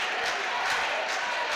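Futsal match crowd in an indoor arena, a steady broad wash of applause and crowd noise holding even throughout, fairly distant and continuous with no talk on top.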